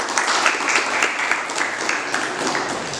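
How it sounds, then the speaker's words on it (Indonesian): Classroom applause from students after a group presentation in a vocational auto-repair lesson, a steady wash of many hands clapping for about three seconds at moderate loudness. "kita kasih aplaus"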